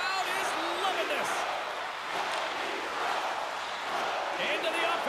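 A home arena crowd in the NHL 23 hockey video game roars in a steady, dense wash of cheering, loud and sustained, with a commentator talking over it.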